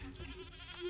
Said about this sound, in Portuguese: Um bode fantasma, aparentemente.